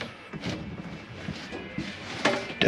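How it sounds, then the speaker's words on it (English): The bedroom door of a Jayco Northpoint 310RLTS travel trailer is pushed shut with a few soft thumps and sliding knocks, ending in a sharper close near the end. "I'm going to come up here and close your bedroom door."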